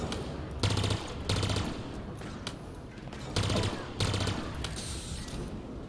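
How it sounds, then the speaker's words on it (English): Halo Infinite combat blares with rapid automatic gunfire and explosions, loud bursts of fire repeating in quick volleys with a steady din of battle noise between them. "It's a lot of explosions that just happened right there."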